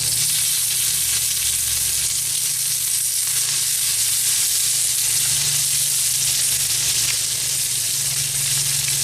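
Bacon frying on a hot cooking stone, a loud, unbroken close-up sizzle with fine crackling spatter and a faint low hum underneath, no voices.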